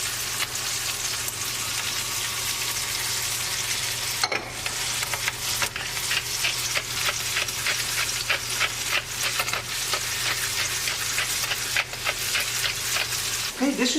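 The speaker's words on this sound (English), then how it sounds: "Okay, they're sizzling. That's what we want to hear." Chicken sizzles loudly and steadily in a hot pan, with dense crackling and pops, occasional stirring clinks, no talking.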